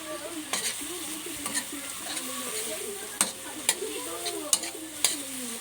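Finely ground black pepper granules being sautéed in a pan for a simple shrimp dish, a soft steady sizzle with occasional clicks and scrapes of stirring, close and moderately loud with no talking.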